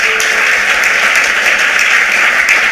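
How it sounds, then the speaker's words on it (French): Audience applause for Compassion Internationale at a personal-excellence masterclass, loud and steady dense clapping filling the room without a break. "Je voulais que vous puissiez vraiment applaudir pour Compassion Internationale."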